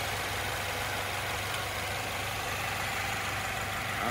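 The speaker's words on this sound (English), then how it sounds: "nice and smooth running engine, no odd noises or vibrations" A 2014 Subaru Outback engine idles smoothly with a steady, even hum and no irregular knocks, heard close and alone at a constant low level.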